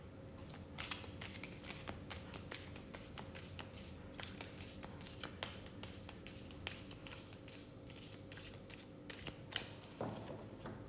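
A deck of playing cards riffled and shuffled repeatedly, crisp rapid flutters in quick bursts at close range, followed by a brief clearing shuffle near the end.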